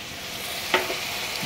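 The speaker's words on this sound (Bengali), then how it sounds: "আলু আর লাউটাও মোটামুটি ভাজা হয়ে এসছে।" Steady, soft sizzling of food frying in a pan, with one brief clatter of stirring partway through.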